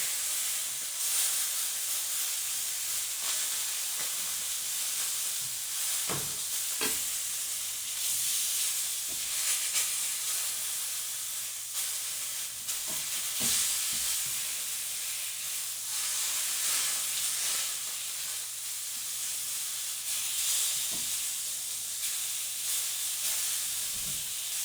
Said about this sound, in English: It can be pretty smoky and searing like this.